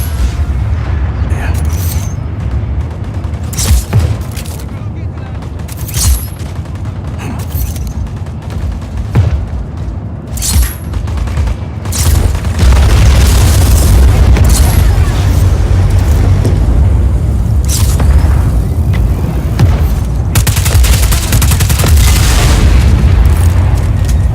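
Loud, continuous booms and explosions mixed with gunfire in the video game Just Cause 4, dense and rumbling, growing heavier halfway through, with a voice speaking over the battle.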